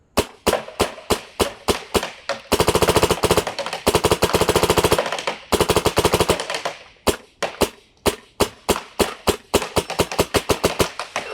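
Paintball marker fired by walking the trigger: close, loud bursts of rapid shots, with single and paired pops at the start and end framing a dense, fast volley in the middle, and no talking.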